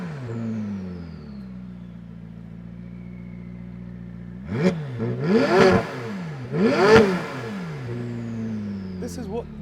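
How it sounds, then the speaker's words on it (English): A 2016 McLaren 570GT engine idles low, then revs hard twice in quick rising-and-falling bursts, loud and close, before settling back to idle. "I'm going to rev that engine a bit so you can hear what it sounds like."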